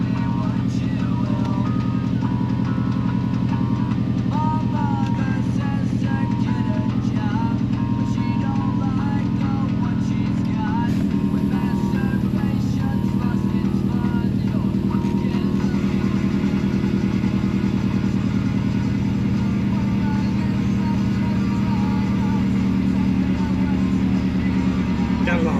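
Subaru STI with a 20G turbo idling steadily as it warms up, a constant close engine drone with a faint shift in tone partway through, and someone talking over it.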